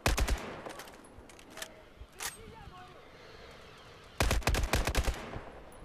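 Battlefield 4 gunfire comes in short sharp bursts, a quick volley at the start and another rapid string near the end, with quieter single shots between and a voice briefly speaking.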